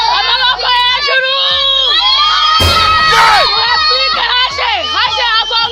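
Fans at a Rwandan stage show cheer and shout loudly, with a burst of clapping midway, a dense, continuous crowd roar of many excited voices close by.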